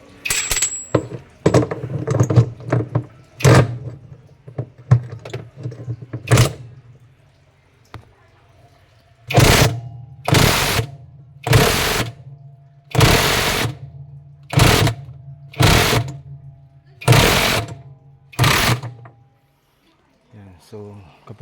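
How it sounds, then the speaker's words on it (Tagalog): A handheld power tool drives a screw to fasten a battery tab, heard as a series of loud, evenly spaced bursts of whirring, each a second or so long, with some rattling and someone talking early on. "So higpitan ko na yung kanyang tornilyo."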